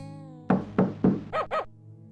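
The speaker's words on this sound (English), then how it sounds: "So we're going to go bang on the door." Knocking on a door in the 1991 PC adventure game Police Quest 3: The Kindred: three loud, evenly spaced thuds followed by two quicker resonant raps, close and alone over a faint low hum.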